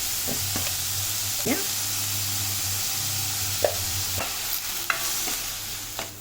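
Finely chopped onion with salt fries with a steady sizzle in a pan for paneer bhurji. A spatula scrapes and taps against the pan now and then, and a faint low hum runs underneath.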